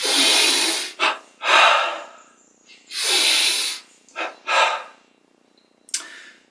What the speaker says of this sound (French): On profite pour presque hyperventiler un petit peu, enfin en tout cas faire rentrer le maximum d'oxygène